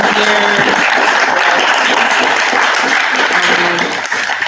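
Sustained applause from an audience at the close of an open forum discussion, dense and steady throughout before tapering slightly at the end, with a few brief voices faintly mixed in.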